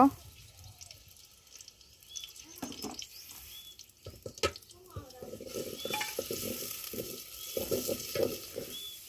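Oil goes into a pan on a clay stove with a bamboo ladle, giving soft drips, stirring scrapes and a low sizzle that builds toward the end, under a voice talking.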